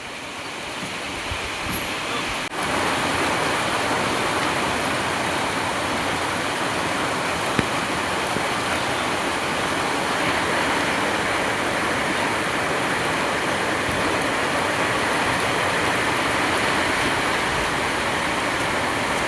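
Rain pours down on a rainy day: a dense, even hiss of falling water that holds unbroken and loud throughout, thickening slightly after the first seconds, with no speech.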